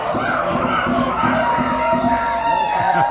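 Spectators at a Spring Crown armored combat tournament cheer and shout together, a steady roar of overlapping voices rising and falling through the whole stretch.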